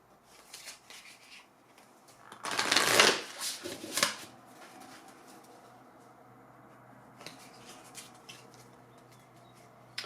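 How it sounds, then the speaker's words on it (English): A new oracle card deck is shuffled in one brisk riffle that rises and fades over about two seconds, followed by softer card handling and faint rustles, close up in a quiet room with no talking. "we're going to try out these new oracle cards that I have"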